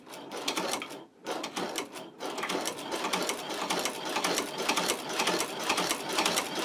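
A sewing machine stitches through thick leather, running steadily and loudly after a brief pause near the start, its rapid rhythmic needle strokes continuing through a seam.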